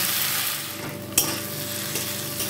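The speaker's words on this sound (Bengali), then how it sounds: "মশলাটা আমি একটু কষিয়ে নেব।" A ground paste of coriander, cumin, fennel and ginger sautés in a pan with an even, close crackling sizzle, broken by one sharp utensil scrape midway.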